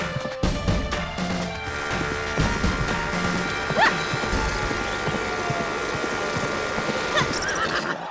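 A horse whinnies loudly and nearby while hooves clip-clop in a steady rhythm, with background music and clatter in a Hindi comedy scene.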